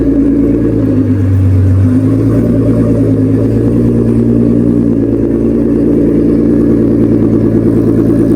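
A Haltech-tuned Audi car engine drones loud and close as it drives, with a deep steady rumble and a rising rev that swells and settles, continuous and with no one speaking.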